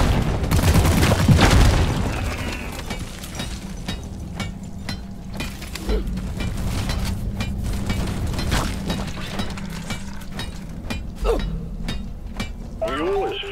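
A rocket explodes in Deep Rock Galactic with a deep, loud boom up front, then a continuous rumble of mining-game noise with scattered sharp cracks and clanks while voices talk.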